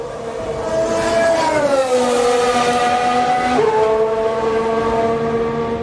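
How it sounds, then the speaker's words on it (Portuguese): Mercedes Formula 1 car engine on track at the Saudi Arabian Grand Prix, a loud high-pitched whine rising and dropping through gear changes as the car passes, heard alone without talk. "E o Hamilton nesse final de semana com aquele motor, segundo a expressão da Mercedes, o apimentado"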